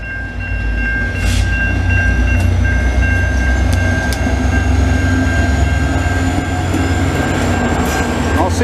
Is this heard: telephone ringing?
no